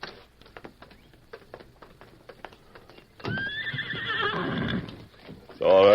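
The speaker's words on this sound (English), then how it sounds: "The horses are in the patio." Horses in a patio clop their hooves in a quick, light patter, then a loud whinny rings out up close, followed by another sharp neigh at the end.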